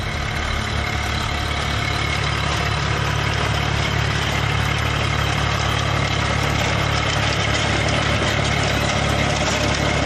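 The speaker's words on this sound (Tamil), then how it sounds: "விவசாயி ஒருவர் விளைநிலத்திலேயே பருத்தி செடிகளை டிராக்டர் கொண்டு அடித்தார்" Tractor engine running steadily in a rain-starved cotton field in Tamil Nadu, used to knock down cotton plants where they stand; a loud, continuous low rumble with no pauses for the whole stretch and no talking.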